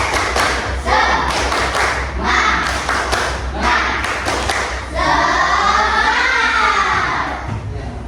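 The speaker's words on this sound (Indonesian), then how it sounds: "Kita tepuk semangat. Tepuk semangat." Fifth-grade schoolchildren doing a rhythmic spirit clap in class, loud patterned hand claps and slaps with chanting voices, close and energetic throughout.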